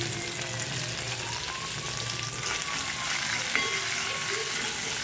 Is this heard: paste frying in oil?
yes